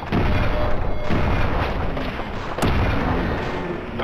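Loud, booming gunshots from the game Fallout 3 fire in a dense, continuous barrage with a couple of sharper cracks standing out, close and heavy.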